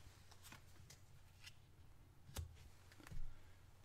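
Playing cards for the Tenosaurus Rex board game are dealt onto a table, making a few quiet flicks and soft slaps at an uneven pace.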